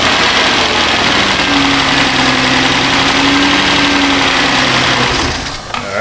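A Chrysler Town & Country 4.0 engine idles close by with a steady, loud, rough hum and a faint mechanical whine, running continuously without talk before dipping slightly at the end.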